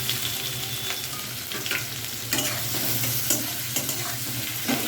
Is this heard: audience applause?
no